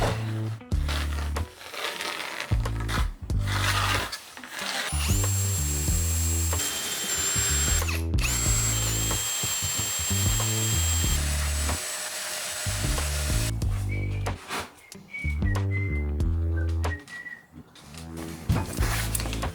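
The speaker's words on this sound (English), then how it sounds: "we're going to drill our holes for our pegs" A power drill whines loudly in repeated bursts, pitch rising and falling as it bites into wood, drilling peg holes, with brief pauses between holes and a high steady tone at times.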